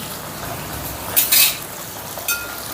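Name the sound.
frying green peas in oil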